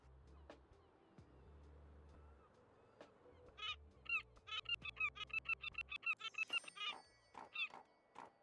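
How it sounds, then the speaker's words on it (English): Seagull calls in the cozy video game Tiny Bookshop: a rapid series of repeated squawking cries, each click triggering another call, crowding together in quick succession over a quiet background hum. "I don't know why I clicked on the seagull that many times."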